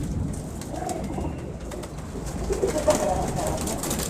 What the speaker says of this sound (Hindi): बड़ा है ये कसूरिया कबूतर है